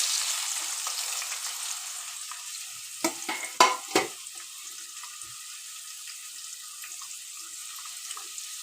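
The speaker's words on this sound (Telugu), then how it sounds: "ఉల్లిగడ్డ, పచ్చిమిర్చి ఎర్రగా వేగిపోవాలి" Chopped onions and green chillies fry in a spoonful of hot oil, giving a steady close sizzle with a short burst of spoon scrapes and clatter as they are stirred midway.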